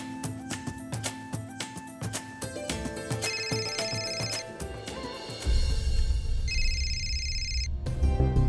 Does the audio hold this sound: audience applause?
no